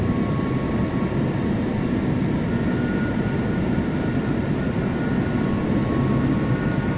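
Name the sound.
Boeing 737 jet taking off, Microsoft Flight Simulator 2024 video game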